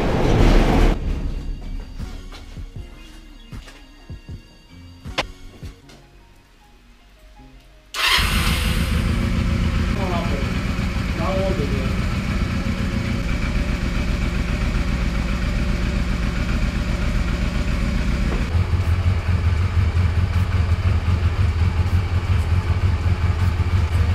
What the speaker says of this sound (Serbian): potrebno je upaliti motor nekih 5 do 10 minuta da bi se ulje u motoru zagrejalo